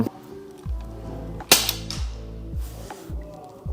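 A string of crisp, snappy shots from a Swiss Arms FN Herstal M4 airsoft rifle fired at a steady pace, each followed by a short mechanical whir, close by with no talking.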